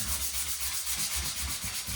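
Rhythmic hand sanding, sandpaper rubbing back and forth across wood filler on finish trim in steady strokes, close and fairly loud, no voices.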